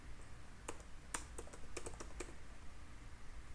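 Keys clatter on a computer keyboard as an email address is entered into a Laravel e-commerce database seeder, a quick irregular burst of about eight crisp, close taps over a faint steady hiss, with no talking.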